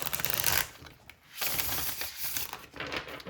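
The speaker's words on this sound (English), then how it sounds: "I'm going to do one more shuffle." Tarot cards riffle and slide through a shuffle in close, crisp bursts, with a brief pause near the middle before the papery shuffling resumes, no talking over it.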